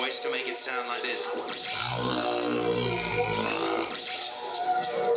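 A deep, buzzy bass line sung and shifted down an octave rumbles for a couple of seconds over an ongoing beat.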